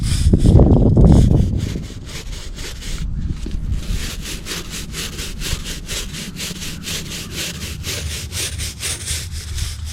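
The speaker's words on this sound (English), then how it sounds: "But with all the moss and the crud, scrub all the way around on it." Moss and grime being scrubbed off a gravestone outdoors, a rapid rhythmic back-and-forth rasping close to the microphone, steady and continuous after a louder rustle at the start.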